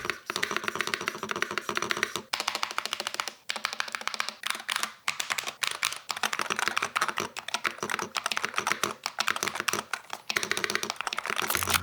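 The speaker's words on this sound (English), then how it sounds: "the spacebar is actually pretty thocky on this keyboard" Fast, steady typing on a budget mechanical keyboard with a thocky spacebar, crisp clacking keystrokes close up and brief pauses between bursts.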